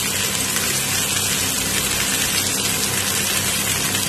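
About 1.5 litres of water poured into a cooking pot of fried mutton trotters, a steady, dense rush of broadband noise that stays even throughout with no pauses and no speech.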